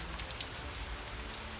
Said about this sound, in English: watching the rain turn streetlights into blurry golden drops